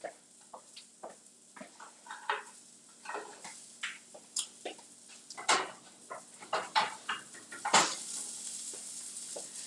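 Fish sizzles and crackles in hot oil in a skillet, a steady frying hiss broken by irregular pops and light scraping clicks, close and moderately loud with no talking.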